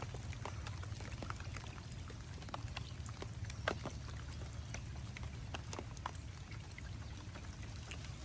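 Heavy rain pattering continuously, with scattered louder drops striking nearby over a constant low rumble; no voices.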